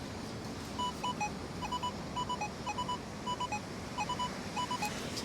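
A Nokta Legend metal detector fitted with an LG30 coil gives a repeated multiple beep over a shallow target on an eroded beach, with several short bursts of clipped tones sounding close and clear over steady background hiss.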